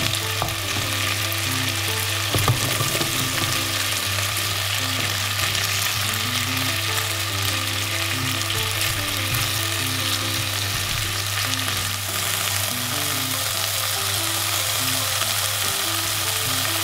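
Scallion frying in a pan for a tomato and winter vegetable miso soup, a steady dense sizzle throughout with a constant low hum underneath and no talk.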